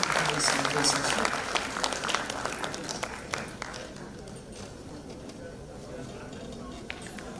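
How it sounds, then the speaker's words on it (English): Applause for a session moderator at an international inclusivity conference, fairly loud at first and then thinning to scattered claps as voices murmur underneath. "A round of applause for the moderation of this central session."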